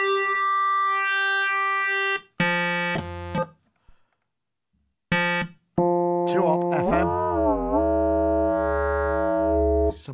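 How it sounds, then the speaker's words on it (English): Arturia MiniFreak synthesizer playing wave shaper oscillator tones, a series of sustained bright harmonic notes separated by brief silences, then gliding, bending pitches and a deeper buzzy tone toward the end. "Wave Shaper Analog, or VA Analog,"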